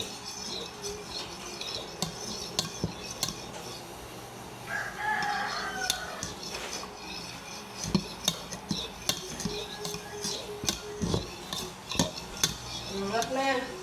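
Scrambled eggs with seaweed cook in a busy kitchen, where pots and utensils clatter and scrape in a steady run of sharp clinks over constant background noise, and a rooster crows faintly in the distance.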